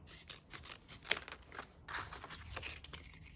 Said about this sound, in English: I'm going to use my eye and just cut these in half.